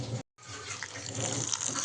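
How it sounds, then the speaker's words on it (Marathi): Sago pearls being washed in a small pot of water, with continuous close sloshing and running water, a brief gap near the start, then steady rinsing sounds with no talking. "आता आपण शाबू धुवून घेऊया"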